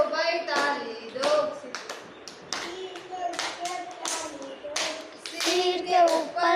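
Children clap their hands in time with a sung Hindi rhyme, sharp bursts of claps falling in rhythmic groups between and under the singing voices.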